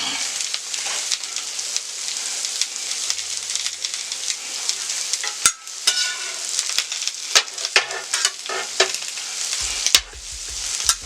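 Italian sausage, sauerkraut, onions and peppers sizzle steadily in a skillet, a continuous close hiss with occasional utensil scrapes and clicks throughout, no talking.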